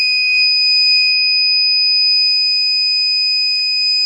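Teslon 3000W inverter failing to boot, sounding a loud, steady high-pitched electronic alarm tone that holds unbroken throughout, close and alone with no talking.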